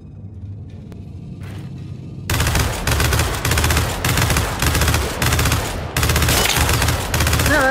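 Heavy turret gunfire in Gears of War 5 hammers in loud sustained bursts after a quiet rumbling start, with brief gaps between volleys and no talk over it.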